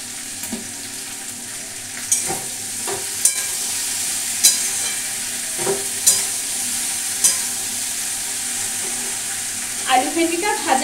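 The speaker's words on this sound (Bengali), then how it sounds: "আলু ভেন্ডিটা ভাজা হোক" Potato and okra fry in a pan with a constant crackling sizzle, while a utensil scrapes and knocks at intervals of about a second or two as it stirs. A brief burst of louder stirring comes at the end.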